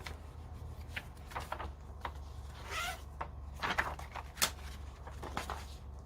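Backing being peeled off a very sticky adhesive mounting sheet for a photo frame, with a cloth, giving soft crackling tearing bursts at close range over a low steady hum, no talk.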